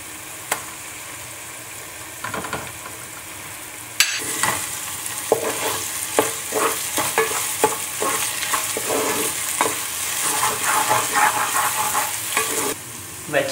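Ginger garlic paste fries and gets stirred in a pan for a Goan pork stew: a steady, close sizzle with scraping stir strokes, quiet at first, then louder and busier after a sharp clink.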